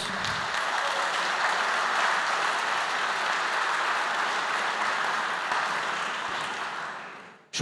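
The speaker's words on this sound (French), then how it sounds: "je prends vos applaudissements pour mes équipes" Audience at a conference on inclusive housing applauding a speaker, even sustained clapping from a sizeable room that holds steady and then cuts off abruptly at the end.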